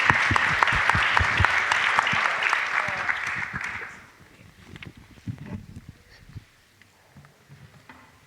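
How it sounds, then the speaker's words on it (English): Conference audience applauding the panelists at the end of an Indigenous Peoples' dialogue session, loud and dense for about four seconds before fading to scattered claps, shuffling and room noise. "So I think we can give a round of applause to our panelists."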